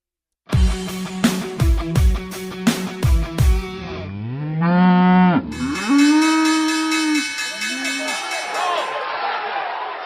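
Cattle moo loudly and close by, a run of short sharp calls followed by several long drawn-out lows that overlap and fill the whole stretch.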